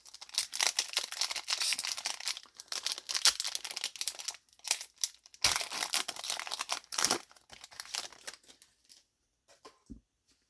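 Foil Yu-Gi-Oh booster packs from a Special Edition Chaos Impact display box being torn open and their cards handled, close and crisp, with bursts of crinkling and ripping separated by brief quiet gaps.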